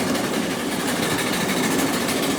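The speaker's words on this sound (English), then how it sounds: "The train accelerated quite a bit as it heads down this hill." A steam locomotive at the Hesstons steam show runs steadily downhill with a continuous, dense mechanical rumble and hiss, loud and close, with no voices.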